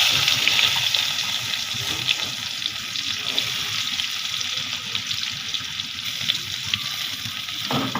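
Running tap water pours steadily into a sink as food is rinsed, a continuous bright hiss and splash close by for the whole stretch, with a faint sizzle beneath.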